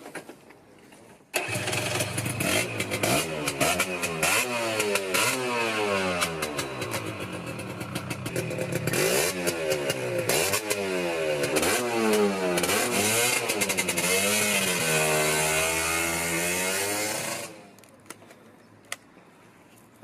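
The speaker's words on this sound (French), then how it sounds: "On va essayer ce deux temps, prêté par Marc Alias" A modern two-stroke direct-injection motorcycle fires up and revs repeatedly, the loud, close engine rising and falling in sharp sweeps for about sixteen seconds before shutting off, with no talk over it.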